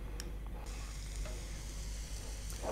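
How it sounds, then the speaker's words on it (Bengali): Onions dropped into hot oil for an anaros ilish dish, a continuous close sizzle with a low hum underneath and a brief louder flare at the end, no voices. "তেলটা গরম হয়ে আসলে আমরা পেঁয়াজটা দিয়ে দিচ্ছি।"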